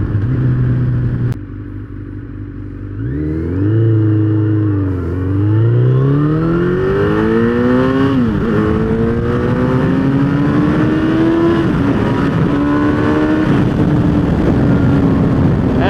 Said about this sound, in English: This bike, I swear to God, just a troublemaker, dude.